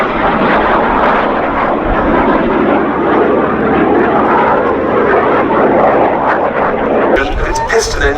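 A Canadian-built BAC Jet Provost T3 jet trainer flies at an air festival, giving a loud, steady broadband engine roar that holds throughout with a brief change near the end, under a commentator's voice.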